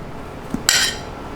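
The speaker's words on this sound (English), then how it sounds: "I'm just going to chop it up a little bit so that it's slightly easier to mix." A knife cuts through soft room-temperature butter for a cake batter: a faint soft tap, then one brief bright clink of metal against a dish, close by in an otherwise quiet kitchen.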